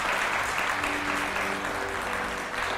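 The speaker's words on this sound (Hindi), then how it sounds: "इन तीनों मॉडल्स के लिए तो तालियां होनी चाहिए बहुत ज़बरदस्त।" Studio audience applause for three models on a Satrangi entertainment show, steady, even clapping at a moderate level throughout with no one speaking over it.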